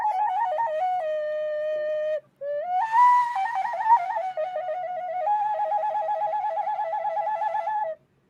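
A homemade flute imitating a finch's call plays clear, piping whistled notes in short stepped phrases, with one brief pause and a final sustained passage, alone and fairly close.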